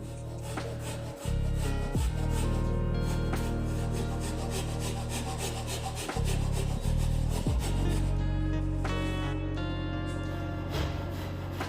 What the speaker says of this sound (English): It's time for me now to shape the neck into this D shape.